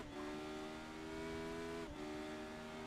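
A race car engine in the iRacing sim drones steadily at high revs, faint and even, with a brief dip and recovery partway through like a quick gear shift.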